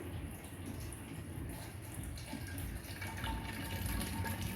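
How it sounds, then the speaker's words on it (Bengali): Water running from a tap into a container during morning household chores, a steady continuous gush heard close and unbroken. "জলের কাজটা করে নিই আগে জলটা ভরে নিই"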